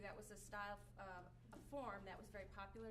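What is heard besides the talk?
None of the usual background noises is heard.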